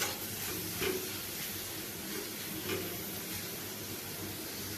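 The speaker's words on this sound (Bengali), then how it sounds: "নুন মিশিয়ে বেশ ভালোভাবে ভেজে নেব।" Onions and spice paste mixed with salt fry in a pan, giving a faint, steady sizzle with a few soft stirring bumps.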